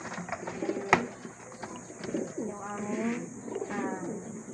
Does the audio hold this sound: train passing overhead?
no